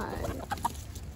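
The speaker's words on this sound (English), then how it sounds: "All right, let's let these chickens out." Chickens on a homestead clucking as they are let out of their coop, a few short clucks and squawks close by over steady background noise, with no talk.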